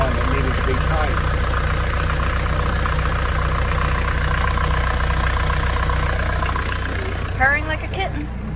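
A Volvo Penta D2-50 diesel engine idles on a catamaran, a steady, even rumbling chug that sits close and loud for the whole stretch, with voices in the background.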